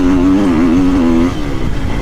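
A Triumph 250 motorcycle engine revs close by with a loud, wavering buzz that rises and falls, then settles back toward idle, with no talking.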